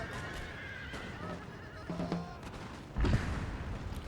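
Cavalry horses whinnying on a battlefield in Napoleon Total War during the Friedland 1807 battle, a short neigh rising over a busy background rumble, followed by a louder thump of gunfire.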